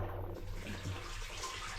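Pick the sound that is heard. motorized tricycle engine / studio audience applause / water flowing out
water flowing out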